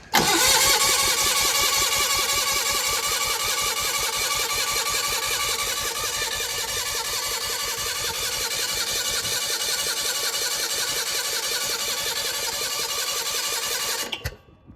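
An old skid loader engine cranks hard for about fourteen seconds, a loud steady churning whir with uneven sputtering pulses as it tries to catch, then cuts off abruptly.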